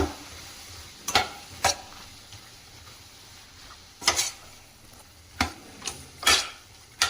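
Boiled drumstick pieces fry quietly in a pan under a soft, low sizzle, punctuated by several sharp scrapes and knocks of a spoon stirring against the metal at irregular intervals.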